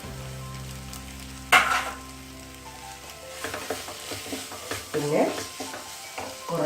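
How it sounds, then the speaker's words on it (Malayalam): Paneer tikka masala gravy sizzles and fries in a pan while being stirred, with a sharp spoon clatter near the start and a run of scraping, bubbling stirring strokes afterward; a brief spoken word passes over it. "നമുക്ക് നന്നായിട്ട് ഇളക്കാം."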